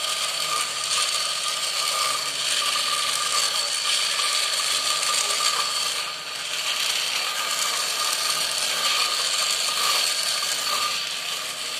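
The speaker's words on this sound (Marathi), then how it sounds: "बघा आता ही मशीन चालू झाली" A small electric lice comb hums and whirs continuously at close range, steady and unbroken throughout, with no talking.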